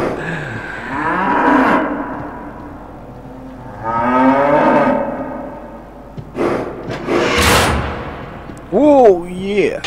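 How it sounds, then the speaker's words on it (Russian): A cow moos several times in Anabiosis: Dream of Reason, long drawn-out lowing calls with gaps between them, followed by sharp impact noises near the end. "Я вселился в корову."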